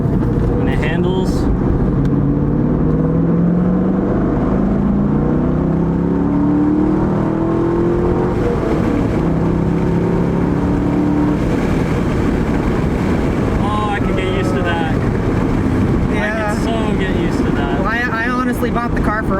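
A Corvette C5 with a manual gearbox drives along in fourth gear, its engine humming and rising in pitch with each pull under steady road and wind noise, while people talk inside the car.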